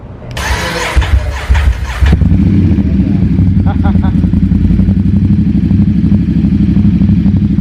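Ducati XDiavel motorcycle being started after a long period of disuse: a few seconds of starter cranking with a brief rev, then the engine catches and settles into a loud, steady, throbbing idle close by.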